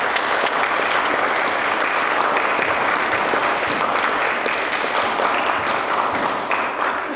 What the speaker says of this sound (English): Have your own cheering section over here.